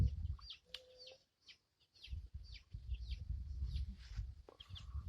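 Young chickens cluck and peep in short bursts close by, with soft rustling and pecking underneath and a brief pause partway through.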